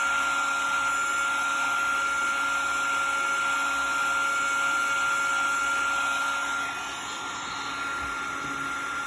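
Electric heat tool blowing to melt embossing powder on adhesive, a loud, steady close whirring hum with a fixed high whine, dipping briefly as it moves away before returning.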